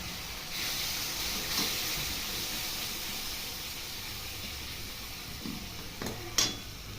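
Spices frying in a pan with a splash of water added to keep them from sticking, while filling is cooked for vegetarian singara; a steady close sizzle and hiss, with a few stirring scrapes and clinks near the end.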